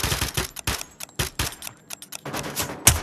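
Bump-fired gunfire in the VR shooter Onward, a rapid, uneven burst of sharp shots with brief gaps, close and loud, ending in one louder crack.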